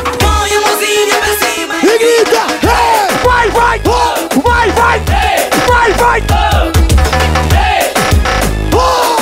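A crowd at a live party in Bragança yells and cheers loudly and continuously over pounding music with a heavy beat, voices merging into a dense, sustained roar.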